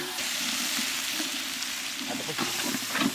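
Tomatoes dropped onto sautéed ginger and garlic in a village kitchen pan, frying with a steady, close sizzle and a few stirring scrapes near the end.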